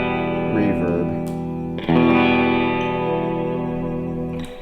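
Reverb-drenched electric surf guitar chords ring out with a long, washy tail, a fresh strum at about two seconds renewing the sustained shimmer before it decays, with no talking over it.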